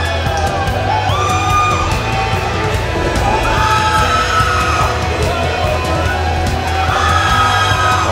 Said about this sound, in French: On a une fille qui crie plus que les autres.